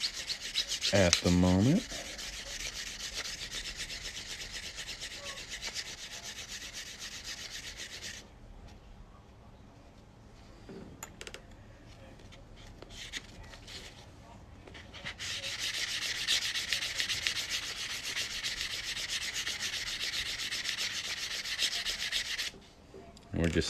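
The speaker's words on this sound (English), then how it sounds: "We're just smoothing out that cut edge before we stretch these out" Steady rubbing and sanding on the cut edge of a quarter coin ring, smoothed before stretching, running in long continuous strokes that pause midway and resume; a brief word is spoken early on.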